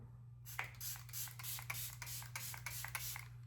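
A run of short hissing bursts from a cosmetic spray, about eight quick pumps in a row, over a faint low hum.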